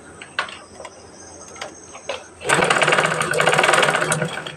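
Sewing machine stitching cloth, with the feed running in reverse instead of pushing the fabric forward: a few scattered ticks and clicks, then a loud, steady rapid whirring run of stitching that continues to the end.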